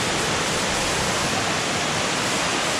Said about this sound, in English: there's actually more waterfalls down this way here